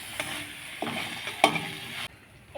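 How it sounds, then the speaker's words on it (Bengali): Potato filling spiced with chilli powder, turmeric and salt being stirred in a hot pan for aloo paratha: a few close scraping strokes over a light sizzle, ending abruptly. "এবার একটু নেড়ে নেবো।"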